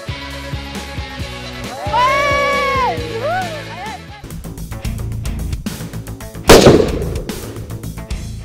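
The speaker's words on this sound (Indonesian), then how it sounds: "Beratnya senapan dan hentakan saat peluru melesat membuat tembakan saya meleset." A single loud rifle shot rings out sharply, mid-clip, from a 5.56-calibre rifle aimed at a target about 100 metres away in the Javanese outdoors. Other varied sounds come before it, and a brief echoing tail follows.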